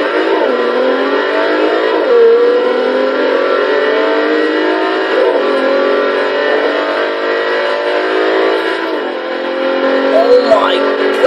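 Bentley EXP 10 Speed 8 concept with a 4.6-liter twin-turbo V6 revving loudly in Forza Horizon 3, a continuous droning engine note climbing through gear changes, close and dominant throughout.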